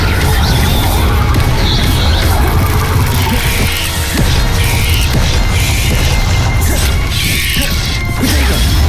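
An Incendio fire spell erupts in Hogwarts Legacy amid a dense barrage of spell effects. Loud, continuous crashing and booming with whooshing bursts and mechanical clatter run throughout.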